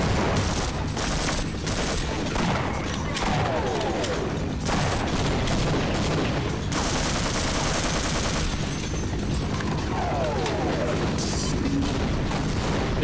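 Rapid gunfire with grenade blasts in the Half-Life video game, a dense, loud barrage of shots and booms that keeps up without pause for the whole stretch.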